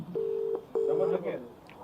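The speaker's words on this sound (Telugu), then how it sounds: "ఆ నంబర్ నేను చేస్తాను." A phone call is being placed, with two steady electronic ringback tones, each about half a second, followed by faint muffled sounds, heard close and alone.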